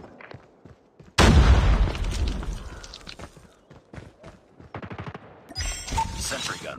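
Automated sentry gun firing in Call of Duty Mobile, a loud burst of rapid gunfire erupting suddenly and rattling on for several seconds, followed by scattered shots and a second burst near the end.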